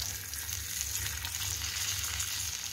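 Kerala-style fish fries in a pan with a soft, steady sizzle and faint bubbling crackle that runs evenly throughout. No one talks.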